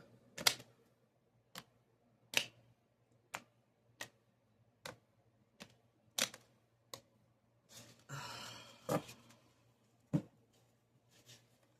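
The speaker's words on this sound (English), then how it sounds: "I'm really bad at shuffling this shit." Sparse, sharp clicks and taps of cards being handled, with one brief riffling burst in the middle, quiet and close.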